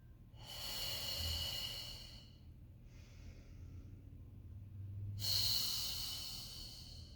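Two long, breathy exhalations during a pilates mat exercise, close and soft, with a quieter airy breath between them and no talking.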